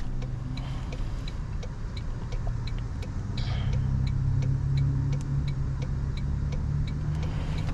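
A 2024 Toyota Tundra TRD Pro pickup drives along, heard from inside the cabin as a steady low engine and road rumble that swells slightly midway, with a regular faint ticking like a turn signal.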